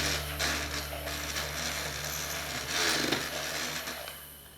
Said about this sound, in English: The frother mixes the cinnamon in there really, really well